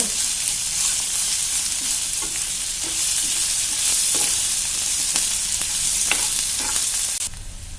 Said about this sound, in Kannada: ಶುಂಠಿ ಬೆಳ್ಳುಳ್ಳಿ ಪೇಸ್ಟ್ ಹಾಕ್ತೀನಿ ಇದು ಸ್ವಲ್ಪ ಎಲ್ಲ ಹುರ್ಕೋಬೇಕು